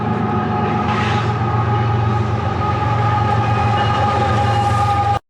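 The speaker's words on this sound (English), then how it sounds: "here comes another train" A train passes close by, a loud steady rumble of wheels and carriages with a sustained tonal whine above it, continuing without pause for several seconds before cutting off.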